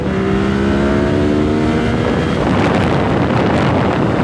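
A Yamaha MT-09 motorcycle fitted with a Two Brothers full-system exhaust, heard while riding: a loud, steady engine drone with rising tones, heavily mixed with rushing wind noise and no talk.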